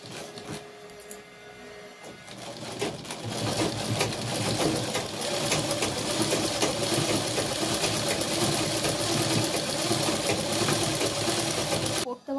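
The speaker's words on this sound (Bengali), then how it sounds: "সেলাই করা যাক।" A sewing machine stitches in a continuous rapid clatter, starting softer and then running fast and loud for several seconds before stopping abruptly.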